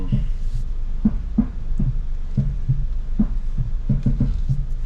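A 2014 Ford Fusion engine idles with a steady low hum and soft rhythmic throbbing pulses, heard close up with no talking.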